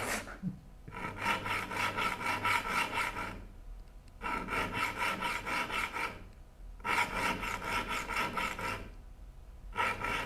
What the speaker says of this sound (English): this sharpening of all of my saws, this is probably the last hurrah of these files